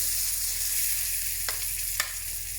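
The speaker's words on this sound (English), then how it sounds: "all we're going to do is we're going to baste that butter, that nutty brown butter, all over the tenderloin" Butter browning in a pan with pork tenderloin, a steady close hissing sizzle with a couple of sharp spatters popping near the end, no voices.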